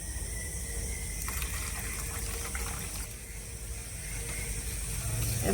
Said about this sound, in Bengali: এবার আস্তে আস্তে জাল দেওয়া দুধটা বীজ দই আর আমের সাথে মিশিয়ে দিচ্ছি